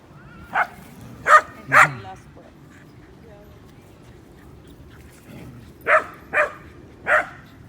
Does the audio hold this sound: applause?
no